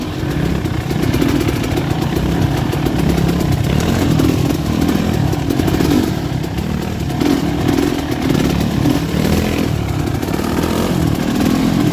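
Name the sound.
motorcycle riding slowly in first gear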